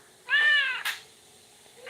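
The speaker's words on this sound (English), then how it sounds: "A straight up cat." A cat meows once inside a Scratch-made FNAF fan game, a clear rising-falling tone lasting about half a second, followed by a brief noisy burst, then near silence.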